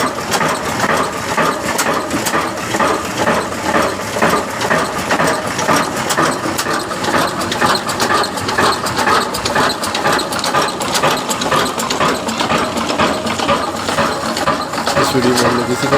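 A 20 hp Ruston Hornsby diesel engine made by Hussain Company in Pakistan runs at about 360 rpm. It makes a loud, steady, close chugging drone with rapid regular beats and no pauses.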